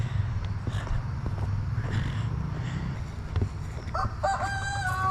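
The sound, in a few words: rooster crowing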